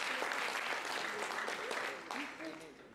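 A crowd at a student design challenge showcase applauds presenting teams, a dense wash of clapping that tapers near the end, with some voices mixed in.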